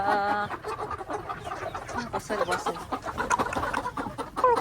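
Chickens cluck and squawk in a startled, scattering flock on a farm, a dense run of short calls close by, mixed with people talking over them.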